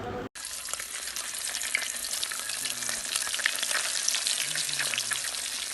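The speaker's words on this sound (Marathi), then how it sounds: "माशांना असा मस्तपैकी गरम मसाला लावून सूरज लागल्या हातानं आपला तळून पण घेत होता" Masala-coated fish frying in hot oil, a steady loud sizzle that begins abruptly after a brief silent moment and holds constant throughout.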